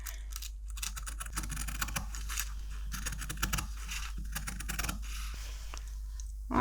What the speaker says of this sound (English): I'm just going to get my fabric scissors and cut that out